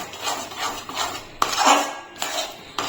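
A utensil scrapes and knocks rhythmically against a pan as a jackfruit seed mixture with cardamom is stirred over low heat, with repeated close strokes and a few sharper clinks.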